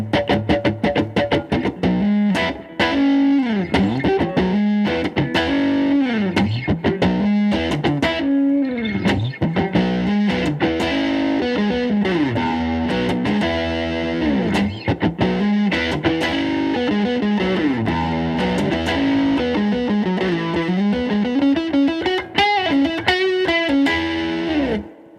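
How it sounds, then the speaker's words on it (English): Electric guitar on the bridge pickup, driven through a Fender Tone Master amp's Nashville OD overdrive, plays steady distorted chords and riffs, loud and continuous throughout with no talking. "That overdrive on the Fender Tone Master is called Nashville OD, and it looks like it's in front of the Super Reverb setting."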